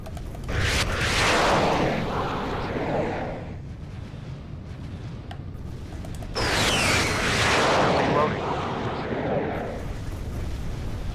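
Missiles launching in the Sky Gamblers: Afterburner jet combat game, two long whooshing, roaring bursts over a constant engine drone, with a mechanical rattle between them.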